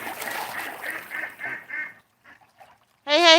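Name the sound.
Canada geese honking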